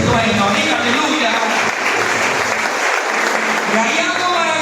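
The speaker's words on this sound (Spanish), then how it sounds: "Den un aplauso a Dios." A church congregation breaks into sustained, dense applause, a steady wash of clapping hands lasting throughout with a slight dip midway, with cheering voices mixed in.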